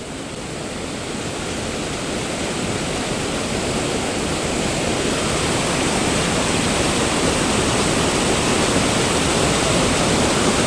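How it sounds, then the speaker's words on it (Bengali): The large Chapanala waterfall roars in a dense, unbroken rush of falling water, loud and close, growing slightly stronger over the stretch, with no voices. "এই দেখো, এই দেখো দেখছ কত বড় ঝর্ণা।"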